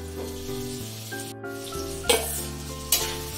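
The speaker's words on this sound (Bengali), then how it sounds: "এখন গুড়টাকে আমি দিয়ে দিচ্ছি।" Jaggery drops into a hot pan of roasted spices for a raw mango chutney, raising a steady close sizzle with two sharper bursts of spitting, under a faint tonal background.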